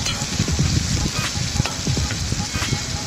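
Onions and ginger-garlic paste fry in a pan while being stirred, a constant loud sizzle broken by scraping, clattering strokes of the spatula close up.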